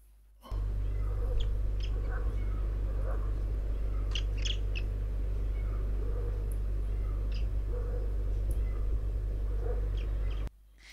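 Roseate tern calls from a field recording, short scattered high notes over a steady low hum and hiss, with a cat also audible faintly in the background.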